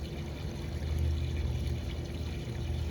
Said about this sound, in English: Get all that water on in there, right on up to the top